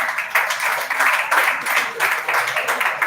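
Group applause at an awards event: a dense, steady wash of many hands clapping together, fairly close and loud, with slight swells in intensity throughout.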